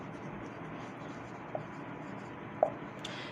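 Pen or pencil scratching a word onto paper by hand, a soft steady rasp with a couple of faint taps, close up and quiet, with no talking.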